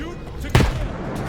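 Gunfire from the video game Stalker 2: a single loud, sharp shot bursts out midway, ringing briefly against a steady background of game ambience.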